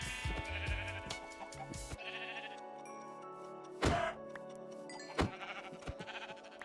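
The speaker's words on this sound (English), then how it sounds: "there's some sheep here." Sheep in the video game Minecraft bleat several times in quick, clear cries against a quiet background, with no talk.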